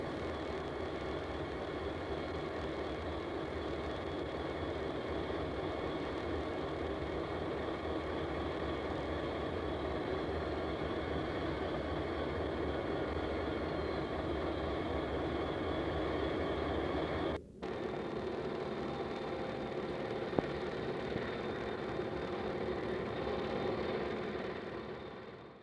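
B&O and C&O diesel freight locomotives, including blue C&O units and an L&N unit, labor up a steep mountain grade near Terra Alta; a steady, distant engine drone holds throughout with a brief sharp click partway.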